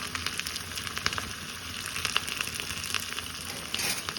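Garlic, curry leaves and asafoetida sauté in hot oil for a sambar, a steady close sizzle scattered with small crackles and pops, with no talking.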